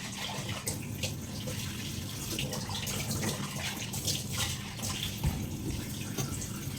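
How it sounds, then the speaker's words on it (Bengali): A strainer is rinsed under a running kitchen tap, a fairly quiet, steady splash of water with small shifting spatters and drips as it is moved about under the stream. "চলো, এটা এখনই টাটকা ধুয়ে রাখি"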